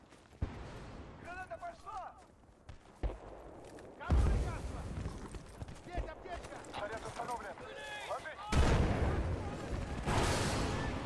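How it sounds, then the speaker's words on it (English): Gunfire and explosions in the video game Battlefield: Bad Company 2: bursts of shots and heavy blasts at irregular intervals, with loud booms near four and eight seconds, under players talking over one another. "It's all these explosions."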